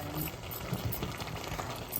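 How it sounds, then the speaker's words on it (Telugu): Water boiling in a pot with sesame flour and raw prawns, a continuous soft bubbling and hissing that stays even throughout, moderately close and fairly quiet with no voices. "ఇప్పుడు ఈ వాటర్ ఇంకిదాకా ఉడకాలి"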